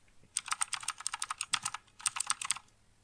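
A user ID is typed on a computer keyboard as a quick run of close, crisp key clicks, then a short pause and a final few taps, all fairly quiet with no talking.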